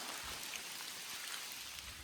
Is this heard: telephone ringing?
no